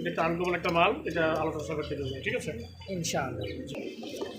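Pigeons coo at a pigeon market, their low throaty calls repeating close by under someone talking almost throughout.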